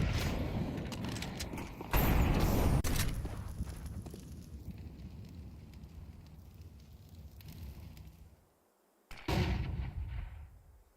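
Grenade blasts and gunfire burst out in a Counter-Strike match between FaZe and Aurora, with a loud explosion near the start, rumbling decay and a second sharp blast near the end, amid fainter in-game clatter.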